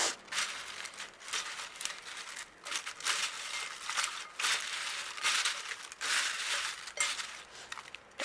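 Crispy crackers being tossed and stirred with cooled chili in a wok for Padang-style balado, a steady run of dry crackling and crunching scrapes in repeated bursts, close and fairly loud, with no talking.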